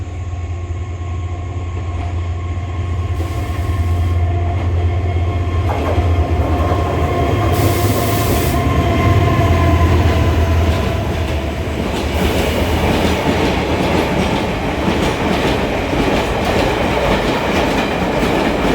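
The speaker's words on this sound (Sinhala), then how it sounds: "දැන් ට්‍රේන් එකක් එනවා පොල්ගහවෙල පැත්තේ ඉඳන්" A train rumbles closer, its low roar building steadily with clattering wheels and rising metallic noise over nearly twenty seconds.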